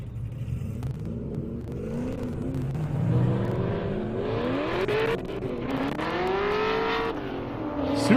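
A Supra and a ZL1 drag race down a half-mile airport airstrip at Indy Airstrip Attack. Engines rev with rising and falling tones, sweeping upward as the cars accelerate, heard from a distance at moderate volume.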